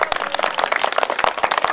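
An audience claps loudly and quickly, a dense, steady patter of many hands close by with no voices over it.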